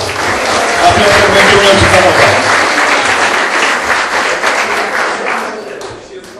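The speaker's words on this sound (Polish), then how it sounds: "dla Piotrka należy się jeszcze raz wielkie brawa" Dense, loud applause from a gala audience for a football league's top scorer, steady clapping that tapers slightly toward the end.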